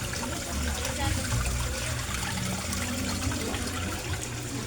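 A submersible pump churns water in a koi pond, making a steady, close, broad bubbling and rushing wash that stays even throughout.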